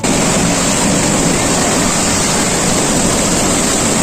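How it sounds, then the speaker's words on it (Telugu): Water rushes loudly and continuously at Akkampally balancing reservoir in Nalgonda, Telangana, a dense, unbroken roar close to the microphone with no voices. "వాటర్ మాత్రం అసలు మామూలు సౌండ్ రావట్లేదు"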